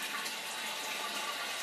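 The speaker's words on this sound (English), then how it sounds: "when you flush the toilet, the flap goes up" Toilet flushing as the red flap inside the tank lifts and lets water rush through the hole, a steady, loud broadband gush of water that runs without a break.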